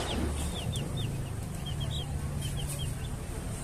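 Chicks in a small homemade coop give repeated high, thin cheeps that come in short bursts over a steady low background hum.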